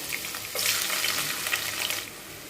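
Oil sizzling and crackling as prawns fry for a biryani, a steady close hiss that swells louder about halfway through and stays busy to the end.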